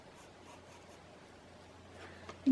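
Pencil shading on paper, a faint, steady scratchy rubbing heard close and quiet under a low hum, ending with a small tap.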